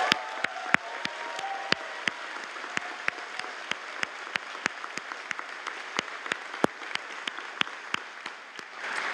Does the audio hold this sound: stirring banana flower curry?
no